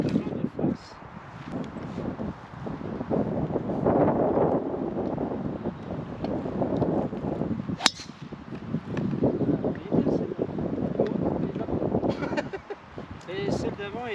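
A headwind gusts across an open golf course during a competition round, a steady rumbling buffet on the microphone under ongoing conversation between players.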